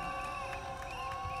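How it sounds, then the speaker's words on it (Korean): A large crowd cheers and claps at an outdoor labor union rally and cultural event supporting a high-altitude sit-in protest, a steady dense roar of shouts and applause. "몸짓 선언 팀을 힘찬 박수와 함성으로 모시도록 하겠습니다"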